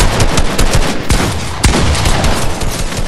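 Loud, rapid gunfire in Fortnite, dense bursts of automatic shots and sharp cracks packed close together, continuous for a few seconds with no talking.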